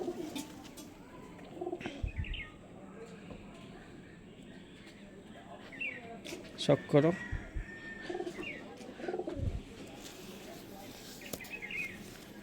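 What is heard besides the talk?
pigeons cooing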